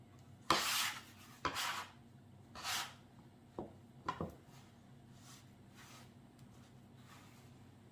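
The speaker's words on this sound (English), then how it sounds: "we're just going to mix until we get a nice dough going" Potato gnocchi dough being mixed with flour in a bowl: a handful of separate scraping, knocking strokes against the dish, fairly quiet and close, with gaps of near silence between them.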